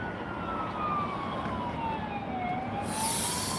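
A fire engine siren wails down a wet street in Queenstown, its slowly sweeping tone carried over steady traffic and rain noise, with a sharp hiss rising at the end.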